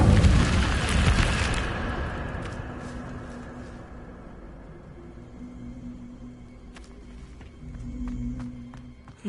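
Incendio fire spell cast in Hogwarts Legacy, a loud roaring whoosh of flame that bursts at the start and fades over several seconds into quieter crackling and faint clicks.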